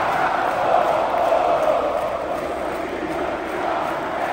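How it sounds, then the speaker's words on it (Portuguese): A packed Maracanã stadium crowd boos the Corinthians team as it comes onto the pitch to warm up, a dense, sustained roar of many voices filling the space evenly and loudly throughout. "se liga na vaia do Maracanã pro Corinthians"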